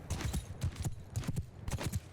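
Cavalry horses in the video game Mount & Blade II: Bannerlord, a rapid rhythmic clatter of many hooves in bursts, fairly close and steady.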